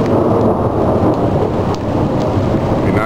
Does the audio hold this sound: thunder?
yes